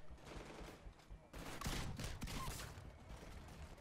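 Gunfire in the Titanfall video game, with shotgun blasts among bursts of shots that grow louder midway, over a busy mix of game sounds and some background voice.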